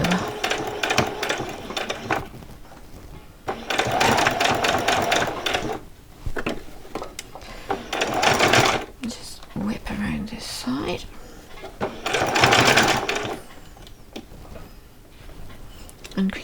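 A sewing machine stitches fabric for Christmas pyjamas in several bursts of steady rapid whirring, pausing between runs, with quiet talk over it.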